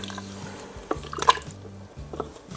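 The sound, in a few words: turkey stock being poured into a pot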